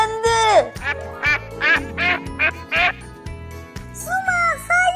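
A cartoon duck quacks in a quick series of nasal, bright calls, close and loud, over a steady low musical background in a children's rescue-game episode.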